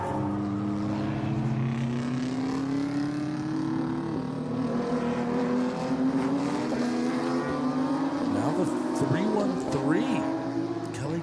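Race cars lapping the Miami Grand Prix circuit, a GT1A car among them working through traffic; steady engine drone with rising and falling pitch as cars pass, under continuous commentary.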